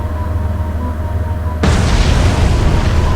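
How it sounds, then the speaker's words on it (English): A torpedo detonates against a submarine in the naval strategy game Atlantic Fleet, a sudden loud broadband boom cutting in midway over a low rumbling sea ambience and sustaining as a heavy roar. "Here comes the torpedo."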